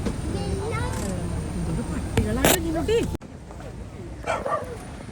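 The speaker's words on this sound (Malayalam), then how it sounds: "ഇവിടെ ഫുള്ള് പട്ടികളുടെ ബഹളാണ്" Dogs bark and yip near the Bhoothathankettu dam with its shutters open, a run of close, excited barks and whines that fades after a few seconds into quieter background noise.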